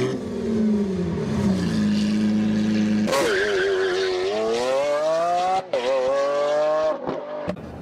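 A Lamborghini Aventador skids with a long tire squeal, then its engine roars and revs hard with rising and falling pitch, close and loud, with brief gear-shift dips near the end.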